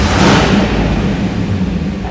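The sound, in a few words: V8 car engine starting and rumbling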